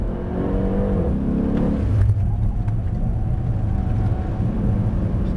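A Mercedes-AMG car accelerating hard on a race track, its engine rumbling and rising steadily in a continuous, loud drone with no speech.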